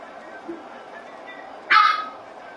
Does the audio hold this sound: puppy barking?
yes